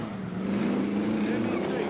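A vehicle drives in an online battle royale shooter game, its engine giving a steady droning whine that rises slightly in pitch and stays at moderate loudness throughout.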